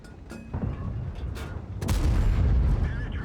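Tank cannon fire in World of Tanks from an M60 shooting at an enemy tank's track, heavy booming shots over a low battlefield rumble, with a louder sustained blast in the second half.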